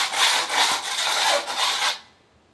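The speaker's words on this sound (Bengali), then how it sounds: "পাতরা দিয়ে পুরো একবারে ঘষে ফিনিশিং ক্লিয়ার।" Sandpaper rubs over wood in brisk back-and-forth strokes to prepare a clear polished finish, a close, loud rasping scrape with a pulsing rhythm of about five strokes before stopping.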